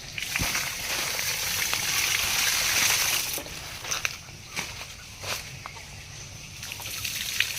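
Water poured from a pot into pits dug around a mango tree on a farm gives a steady rushing splash for about three seconds, then quieter scattered drips and trickles.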